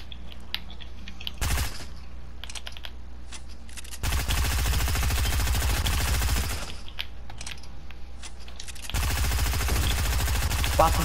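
Automatic gunfire in the Fortnite video game, with rapid loud bursts of shots separated by short quieter gaps, heard through game audio without speech.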